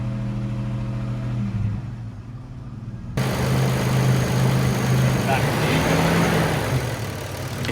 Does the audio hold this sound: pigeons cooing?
no